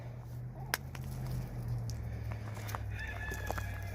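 Hens in a chicken coop during a cleanout, soft scattered clucks and brief calls over a steady low hum, with a couple of sharp knocks mixed in; fairly quiet and close.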